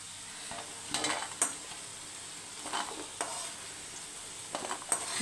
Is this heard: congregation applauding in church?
no